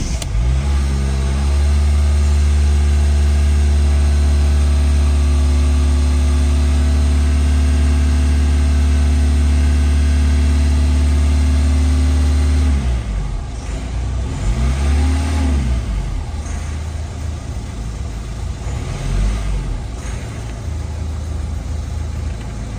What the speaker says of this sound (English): So when you start the engine this time, be ready to rev it straight up.